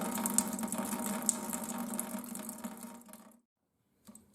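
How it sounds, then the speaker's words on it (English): Fuel draining from a loosened drain on a John Deere tractor fuel filter, a steady close trickling and splashing that runs for about three seconds, stops abruptly, and then gives one short final drip. "You can twist this drain, drain the fuel out of it."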